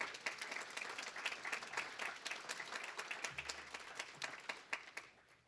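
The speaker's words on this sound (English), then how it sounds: "we as residents, I think, owe them a wonderful round of applause for the job that they do every day" Residents at an association meeting in a retirement community give a sustained round of applause, a dense, even crowd of clapping hands, fairly distant, that tapers off toward the end.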